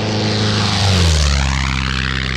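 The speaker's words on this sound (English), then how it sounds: "the Wittman Tailwind." Wittman Tailwind experimental propeller plane, its engine droning loud and close with a steady buzzing tone that rises slightly in pitch as it passes, heard alone.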